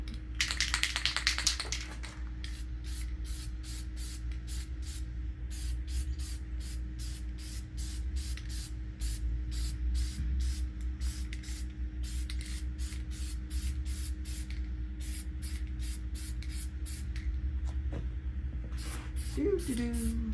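Aerosol spray paint is applied in cold weather while working on an S10 truck, a long string of short, regular hissing bursts over a steady low hum, with a faint voice near the end.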